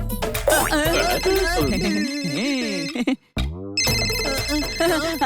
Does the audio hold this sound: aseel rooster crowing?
no